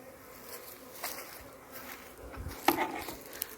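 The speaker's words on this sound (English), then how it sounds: "that's our bees." Honeybees buzzing around an open hive in an outdoor beeyard, a steady close insect hum with occasional sharper passes near the listener and a few light wooden knocks from the hive.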